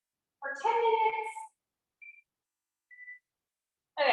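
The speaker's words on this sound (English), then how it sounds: "And then I'm gonna set my timer for 10 minutes." A kitchen timer being set gives a few short electronic beeps in a quiet kitchen during a cooking class, with a voice speaking briefly before and after them.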